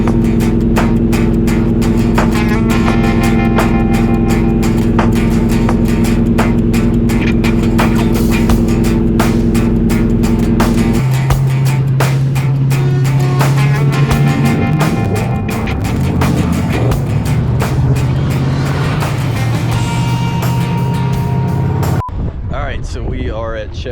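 Chevrolet Nova on a road trip across middle America, with a steady loud engine drone and road rumble that shifts pitch partway through as the car changes speed, continuous from start to finish.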